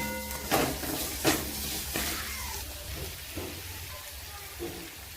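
Salt being stirred into a spicy soya masala gravy in a pan, soft scraping strokes and a few sharper clicks of the spoon against the pan over a low, constant sizzle, fairly quiet and close.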